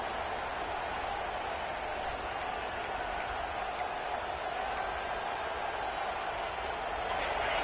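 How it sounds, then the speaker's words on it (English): A loud, sustained crowd roar fills a football stadium, a constant wash of cheering and noise with a few faint whistles poking through as the crowd tries to help the defense. "Listen to this crowd just shaking the girders of this place, trying to help their defense."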